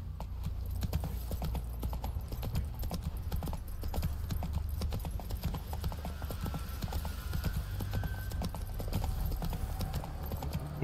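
Roach, a horse in The Witcher 3, galloping with fast, continuous hoofbeats throughout, loud and close against a low rumbling game background.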